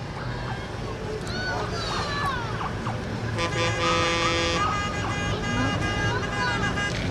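A union parade vehicle rolls by during an evening parade of lights, a low engine rumble under crowd noise with whistle-like toots and a sustained horn blast midway, while people talk over it.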